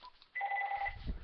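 A phone rings with an incoming call from an unknown caller, giving a single electronic ring burst with steady two-tone trilling. A soft thump follows, and no one speaks.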